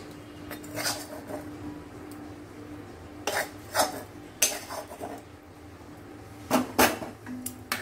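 Fried spice paste being stirred into khichuri of gobindobhog rice in a metal pot: a spoon scrapes and clinks against the pot in irregular bursts, close and fairly quiet, with no talk.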